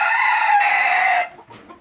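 Silkie hens on a homestead cluck and call loudly and close for over a second, then the sound drops away into a quieter, softer bit of clucking.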